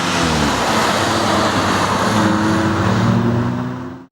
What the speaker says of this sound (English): Today I am driving the 2016 Audi S3.